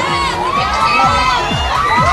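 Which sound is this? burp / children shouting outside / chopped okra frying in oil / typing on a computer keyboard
children shouting outside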